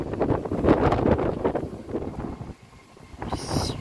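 Gusts of wind buffet the microphone beside the railway at Lenzie with low rumbling thumps that swell and fade, dropping briefly before a hissing gust returns.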